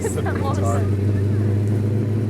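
A deep, throaty engine of a 1967 Plymouth GTX with a Hemi V8 idles and rumbles steadily close by, with a low constant drone and some voices faintly over it.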